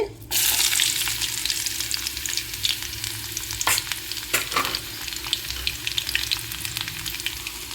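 Crushed garlic sizzles steadily in hot oil for a mango roti pachadi, a loud continuous crackle with a few scraping stirs and no voices.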